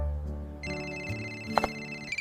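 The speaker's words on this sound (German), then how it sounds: "Maria, klingelt dein Handy?" Mobile phone ringtone playing a bright repeating electronic melody, close and clear, with no talk over it.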